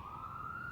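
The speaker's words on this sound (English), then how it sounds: "Sorry for the sirens in the background" Steady, continuous emergency siren tone ringing out across a city neighbourhood in northeast Oklahoma City, holding one pitch for the whole short moment at moderate, slightly distant level with low traffic rumble beneath.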